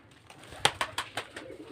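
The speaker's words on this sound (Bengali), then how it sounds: "আমার কবুতরগুলো বাচ্চাগুলো অনেক বড় হয়ে গেল" Domestic pigeons with their grown chicks coo softly nearby, a run of five or six rhythmic, evenly spaced hoots over quiet background noise.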